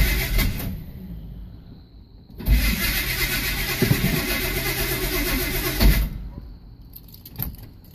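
A cold 1982 Chevy Custom Deluxe engine cranks and catches, running rough and loud close by, sputters between bursts, then revs again before dying down.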